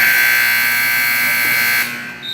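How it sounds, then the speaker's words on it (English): A loud, steady electronic buzzer sounds at the end of the half in a college water polo match between Penn State Behrend and LIU, holding for about two seconds before cutting off into faint arena noise. "Nice lob by Ryland right before the buzzer"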